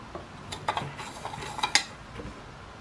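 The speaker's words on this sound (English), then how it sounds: "I'm going to mix it up using a pure aluminum stick." A pure aluminum stick stirs copper sulfate solution in a container, giving soft scattered metallic clinks and scrapes, quiet and close, with no voices.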